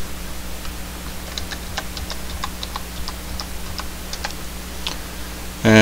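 Password typed on a computer keyboard, a run of light, evenly spaced key clicks over a steady background hum, close and fairly quiet, ending with a sudden louder thump.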